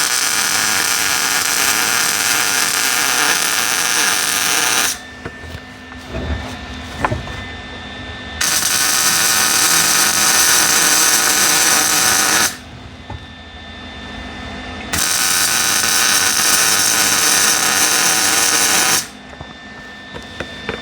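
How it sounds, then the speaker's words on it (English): A handmade dual exhaust pipe for an FC Rampside is welded in three loud, close bursts of harsh hissing crackle, each lasting about four to five seconds, separated by short quieter pauses. "And we'll weld her around."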